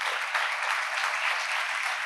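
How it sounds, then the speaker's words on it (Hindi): A church congregation claps steadily and loudly throughout, a dense continuous wash of many hands with no talk over it. "तालियां जे बजानियां ने यीशु दी ते फिर खुल के बजाओ"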